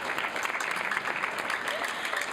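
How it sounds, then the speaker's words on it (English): Continuous crowd applause fills a student production awards ceremony for a couple of seconds, a steady wash of many hands clapping at moderate level with no talking over it. "Come on, let's clap."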